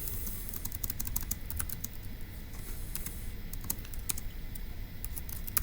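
Steady, rapid clicking of fingers typing notes on a computer keyboard, with irregular bursts of keystrokes over a low background hum and no talking.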